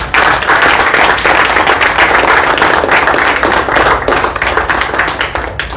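Loud, sustained applause from an audience at an Urdu poetry gathering (sheri nashisht), a dense wash of clapping that holds steady for several seconds and thins slightly toward the end.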